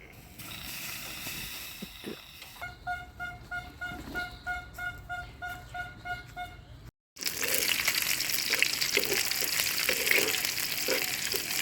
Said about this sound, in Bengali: এখানে হচ্ছে আমার ভাত রান্না উতলাচ্ছে ভাত